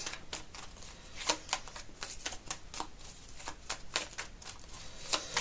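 Tarot cards are shuffled in a continuous close series of soft riffling snaps and slides, with irregular flicks of cards throughout and no voice over them.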